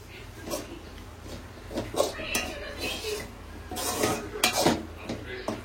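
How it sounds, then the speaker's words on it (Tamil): Masala being mixed into meat by hand in a pot in a Kanyakumari-style kitchen, with soft irregular clinks and scrapes of metal cookware and squishing, moderately close, under faint background noise. "மசாலா எல்லாம் போட்டு நல்லா மிக்ஸ் பண்ணி விட்டுக்காங்க"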